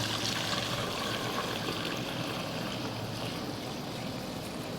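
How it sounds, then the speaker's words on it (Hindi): Homemade fake milk is strained, making a steady, soft trickling pour that runs continuously at low volume without any speech. "तो अब इस दूध को, अपने दूध को हम छान लेते हैं"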